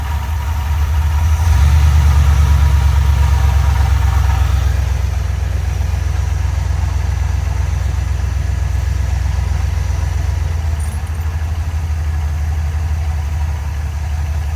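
A 1984 Ford E150 camper van's engine idles with a deep, steady rumble. It swells briefly near the start, then settles into an even, loud idle with a slight knocking texture.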